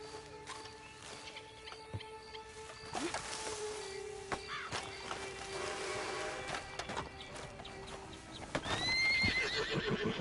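A horse whinnies among clopping hooves and scattered thuds, with game-like ambient tones underneath and a louder, higher neigh near the end.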